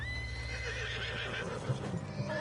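A horse in Red Dead Redemption 2 whinnies loudly and nearby, with a few hoof clops underneath.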